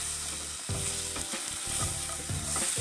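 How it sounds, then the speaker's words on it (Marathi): Tomatoes frying in a pan for palak paneer: a steady close sizzle interrupted by repeated scraping stirs of a spoon against the pan, with brief louder clatters between them. "टोमॅटो मऊ होईपर्यंत भाजायचं आहे"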